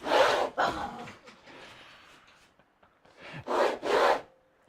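A wooden bandsaw sled rubbed in on the saw table makes two short, rough scraping bursts separated by a quieter pause, close by and fairly loud.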